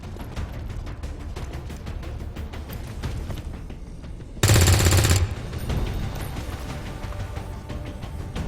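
A short loud burst of automatic gunfire lasting under a second in the XCOM 2 video game, sharp and close, standing out against a low rumbling game background.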